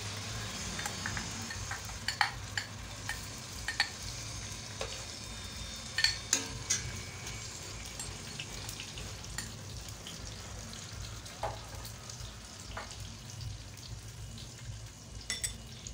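Onion and kofta curry paste fries in a pan, a soft continuous sizzle broken by repeated scraping and stirring clinks from a spoon against the metal, close and fairly quiet with no voices.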